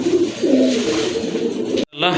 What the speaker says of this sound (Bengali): আর এক জোড়া কবুতর খুবই কিউট এক জোড়া কবুতর